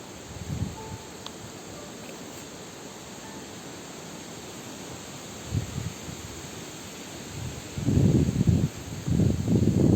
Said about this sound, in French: Je ne sais pas si vous entendez le vent dans les arbres, dans les feuilles.